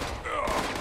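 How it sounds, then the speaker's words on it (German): Gunfire from enemies positioned below the player in the video game Fallout 76, a quick burst of shots with a faint high whine, lasting under a second against steady game background. "Ah, die schießen von unterhalb."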